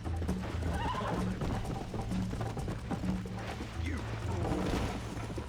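Horse galloping in the video game Red Dead Redemption, with rapid rhythmic hoofbeats drumming continuously, a whinny mixed in, and a steady low rumble of game sound underneath.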